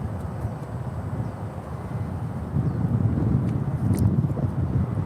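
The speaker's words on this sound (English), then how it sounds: "Love the sound of those GE 90s." A United airliner's GE90 jet engines roar on the takeoff roll at SFO, a steady low rumble heard from a distance that grows slightly louder partway through, with wind buffeting the microphone.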